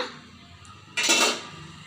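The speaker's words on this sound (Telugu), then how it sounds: "2 సార్లు ఇలా కింద కొట్టండి, ఏమన్నా ఎయిర్ బబుల్స్ ఉన్నా పోతాయి" A bowl of Oreo cake batter set down once with a single short knock on the counter, close and fairly soft, over faint room hiss.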